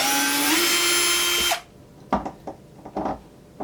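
A power drill driving screws out of a wooden rifle-kit shipping crate: a loud, steady whirring burst that cuts off abruptly, followed by several short, quieter clunks and rattles of wood and screws.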